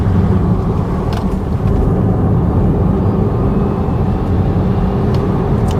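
Steady, loud road noise from a Renault Mégane E-Tech electric car accelerating hard fills the whole stretch, a continuous low rumble with wind and tire hiss as it drives fast.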